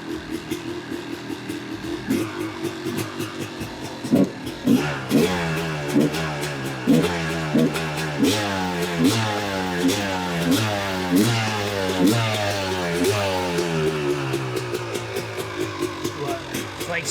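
A Yamaha YZ250 two-stroke dirt bike under repair revs repeatedly, its engine note rising and falling in steady cycles after starting, loud and close, with crackling exhaust pops throughout.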